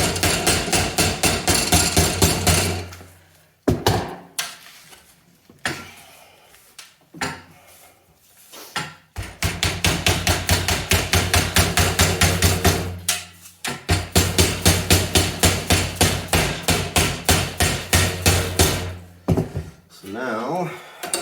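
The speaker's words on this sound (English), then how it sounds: "all I'm doing is putting pressure on this and then just kind of letting the hammer do the work" A hammer strikes a metal brake cooling duct in long rapid runs of sharp metallic blows, broken by brief pauses and a few isolated hits, loud and close throughout.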